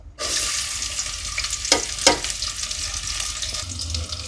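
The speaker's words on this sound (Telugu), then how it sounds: "అల్లం వెల్లిపాయ పచ్చివాసన పోయాక మనం ఫ్రై చేసుకుందాం" Onion with ginger and garlic frying in a pan for a drumstick chicken curry, giving a loud, constant close-up sizzle with two sharp spoon scrapes near the middle and no voices.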